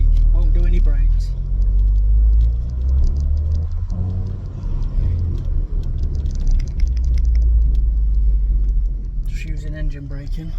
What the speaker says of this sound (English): Just using engine braking.